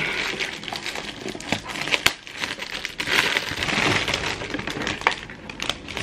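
Shards of a broken drinking glass rattling and crunching inside a package as it is handled, with crinkling packaging noise and sharp clinks.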